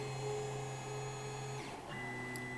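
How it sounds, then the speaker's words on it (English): A 3D printer fitted with a pen attachment runs steadily, its stepper motors droning and whining in sustained tones that shift pitch partway through as the pen moves over and drops onto the paper; no talking. "So the pen moves over, and then it drops to get into contact with the paper, and then it draws."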